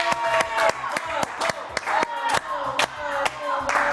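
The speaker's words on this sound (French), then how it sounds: "On applaudit très fort la divine Manon et la divine Isabelle." Studio audience on a French kids' news-style show clapping for two returning presenters, sharp individual claps in an uneven patter with some voices mixed in, fairly close and steady throughout.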